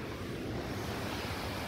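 Overflow water from the Savehaklu dam rushes steadily in a broad, continuous roar heard from a slippery, moss-covered walkway alongside, with no voices.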